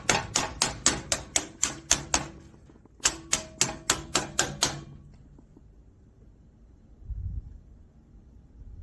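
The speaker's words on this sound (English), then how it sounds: "grab your rubber hammer right here" Rubber hammer tapping sheet metal in two quick runs of about eight sharp, evenly spaced knocks each, close and loud, followed by quiet with a brief low thump near the end.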